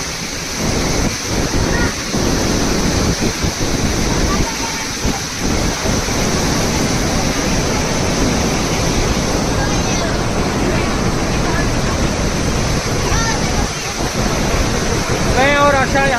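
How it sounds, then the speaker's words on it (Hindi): Montmorency Falls in Quebec pouring down in a steady, roaring wash of water, loud and unbroken throughout, with wind buffeting the microphone at times. "पूरे उद्दाम वेग से गिरते हुए वाटरफॉल को हम निहार सकते हैं"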